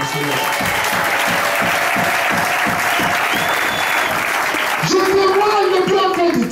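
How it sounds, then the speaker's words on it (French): A church congregation claps loudly and steadily, the applause filling the room throughout before a voice speaks over it near the end. "Applaudissons fort."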